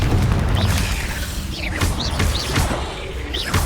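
Confringo spell blasts in the Hogwarts Legacy video game burst out as a series of loud booming impacts with crackling whooshes, several hits in quick succession over a steady rumbling background.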